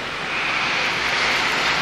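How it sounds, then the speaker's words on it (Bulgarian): Airplanes flying overhead in Sofia, a broad, steady jet roar that swells slightly louder over a couple of seconds, heard alone without talk. "Самолети са"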